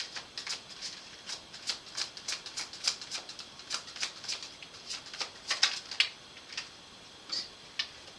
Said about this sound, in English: If you don't like the shuffling, you can always fast forward a little bit.